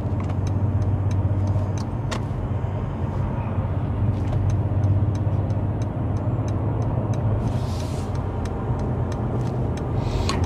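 Mercedes E53 AMG car rolling downhill on a road, a low steady engine and road hum inside the cabin with scattered faint ticks and clicks, and no one speaking.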